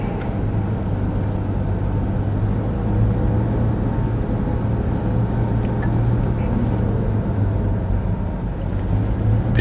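Steady, loud cabin rumble of a manual-transmission car driving during a driving lesson, a continuous low engine and road drone with no talking.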